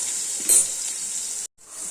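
Potatoes fry with salt in a pan, giving a steady hiss and crackle with a brief louder burst early on and a moment of near silence before the sizzle resumes.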